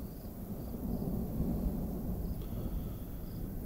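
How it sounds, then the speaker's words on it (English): Thunder rumbles through a night lightning storm at about 1:35 a.m., a low, continuous, fairly distant roll that stays steady throughout, with faint insect chirps in the background. "There's some really strange lightning and strange thunder."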